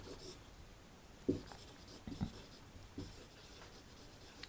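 Words are written on a board in faint, short scratching strokes that come in small clusters with pauses between them. The strokes are quiet and sit against low room noise.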